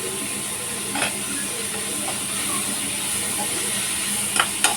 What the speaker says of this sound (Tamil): கருவேப்பிலை நல்லா பொன்னிறமாக வதங்கட்டும்